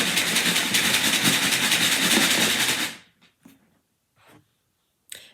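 Coins shaken in a tub stand in for an engine's rumble, giving a dense, rattling roar for about three seconds before cutting off abruptly, followed by a few faint, brief clicks and shuffles.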